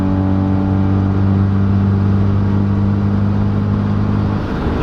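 Hyundai Veloster Turbo fitted with an aftermarket downpipe cruising at 80 mph, a steady loud low engine drone with road and tyre roar heard from the cabin, continuous and unchanging without speech.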